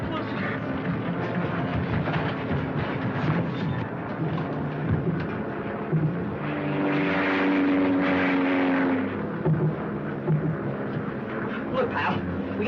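Propeller airplane engine from an old serial film, a steady droning rumble that swells louder in the middle and runs under intermittent talk and film soundtrack.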